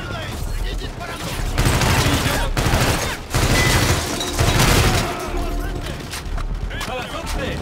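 Dense bursts of video game gunfire and explosions from Call of Duty: Infinite Warfare keep up a loud, steady fusillade for the whole stretch, and shouted voices break through the battle.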